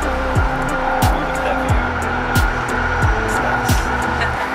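Riding a Shinkansen bullet train in Japan: a loud, steady mechanical rumble with a regular rhythm of swooshing surges roughly every second, heard close and continuous.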